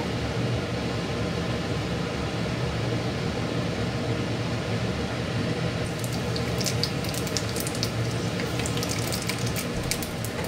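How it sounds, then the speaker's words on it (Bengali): Panch phoron and dry red chilli hit hot oil for a labra tarkari, giving a steady, close broadband sizzle that turns crackly with sharp pops in the second half; no voices. "তেলটা গরম হয়ে গেছে, এবার এর মধ্যে 5 ফোড়ন আর শুকনো লঙ্কা আমি দিয়ে দেব।"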